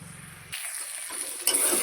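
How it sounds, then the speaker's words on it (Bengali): Spice paste masala sizzling in a pan in a home kitchen, a steady hiss with a soft stirring scrape, then a brief brighter flare of sizzle near the end. "তো চলো মশলাটা কষে নিই।"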